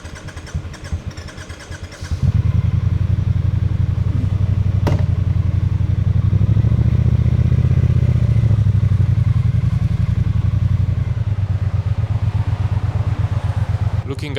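A 2016 Triumph Bonneville T120 motorcycle rides through hot Bucharest city traffic. Its engine swells into a loud, steady, close rumble after a couple of seconds and holds that drone to the end.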